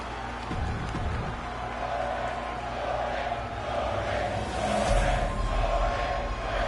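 A wrestling crowd in Seattle cheers for Jordynne Grace, a sustained broad roar from a large audience with a swell of louder noise near the end.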